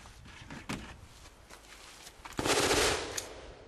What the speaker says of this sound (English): We're going to do 5 rounds apiece of the Virginia Beach Police Department 223 carry round. Federal 62 grain bonded.